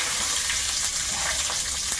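Panch phoron and bay leaf sizzle steadily in hot oil for a pumpkin curry, a continuous close crackling hiss with no talk.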